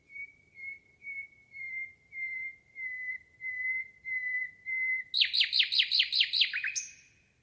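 Recorded nightingale song: eight or nine evenly spaced, pure whistled notes, then a sudden rapid burst of sharp chirps before it falls silent, clear and close with nothing else heard.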